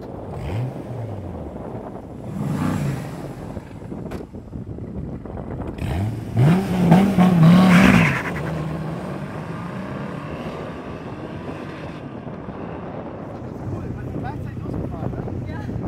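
A Lamborghini pulls away and accelerates in Dubai, its engine swelling into a loud roar that peaks and then fades into the distance, with wind buffeting the microphone and voices talking over it.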